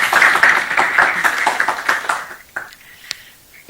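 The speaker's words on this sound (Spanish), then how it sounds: "No quisiera más que darle un aplauso a Ximena y cederle el puesto." An audience at a banking conference session gives a brisk round of applause that is loud for about two seconds, then thins to a few scattered claps and quiet.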